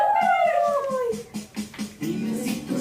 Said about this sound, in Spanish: Dime si tú sabes cómo hace el perro.